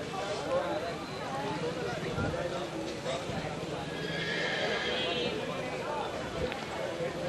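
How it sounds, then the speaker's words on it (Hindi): Horses at the Sonepur fair horse market in Bihar neigh and whinny repeatedly while hooves clip-clop amid a steady, busy crowd murmur, with the animals fairly close and continuous throughout. "कैसे घोड़ा दौड़ रहा है देख सकते हैं आप"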